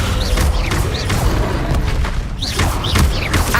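In Hogwarts Legacy combat, a Descendo spell slams an enemy to the ground with heavy booming thuds inside a loud, dense wash of battle noise, with no talk.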